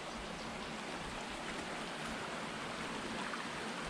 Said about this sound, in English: we got another little cascade waterfall up here